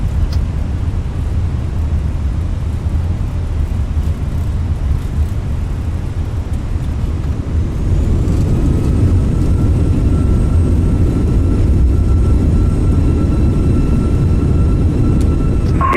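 An airliner's engines roar steadily through its takeoff roll departing Helsinki, loud and continuous, and the roar swells and grows fuller about halfway through.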